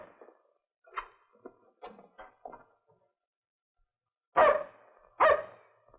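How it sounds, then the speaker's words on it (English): A dog barks twice, loud and close, after a stretch of faint scattered knocks and shuffling sounds in an otherwise quiet room. "But you can't let him bark."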